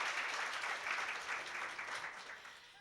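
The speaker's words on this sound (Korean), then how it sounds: "큰 박수 부탁드립니다" Audience applause at an open-source software day awards ceremony in Korea, a moderate wash of clapping that gradually fades over a few seconds.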